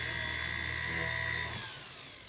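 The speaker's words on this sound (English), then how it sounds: "just take your drill bit and ream that out a little bit" A small power drill reams out a hole in a jewelry ring, whining steadily, loud and close, then winds down and stops near the end.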